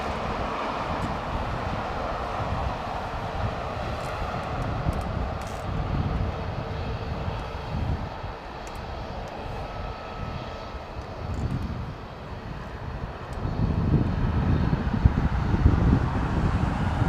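Airbus A350-900 jet landing in heavy rain, a deep, sustained engine roar with a broad rushing wash of rain noise, swelling louder and closer toward the end.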